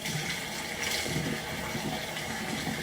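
Water splashes steadily as cleansing balm is rinsed from the face with the hands, a close, continuous wet swishing with soft surges and no talk.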